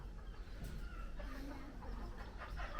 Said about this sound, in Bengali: এটা মুরগি প্লাস মুরগি প্লাস কবুতর।